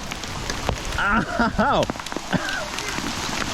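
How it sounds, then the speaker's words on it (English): Heavy rain and hail pelt down beside the Tanjil river at Noojee during a trout-fishing outing, a dense continuous patter with sharp pellet hits, as a man cries out in pain and speaks over it. "So not only are we now in a heavy rainstorm, ow, we're also in a hailstorm."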